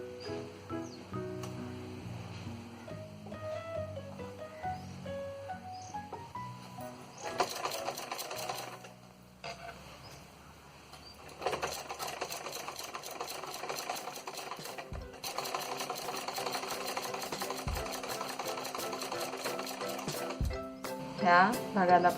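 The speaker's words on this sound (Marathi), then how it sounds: "त्याप्रमाणे आपल्याला आता शिलाई जोडायची." Sewing machine stitching fabric purse pieces together, its motor whirring in several runs of steady stitching with short pauses between them, close and moderately loud, over a faint background of music.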